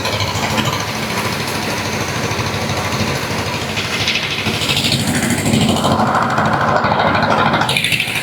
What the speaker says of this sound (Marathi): एक मशीन लावलेली आहे ते मशीनीतून वरती जातं आणि तोडून डायरेक्ट मग बोटीत जातं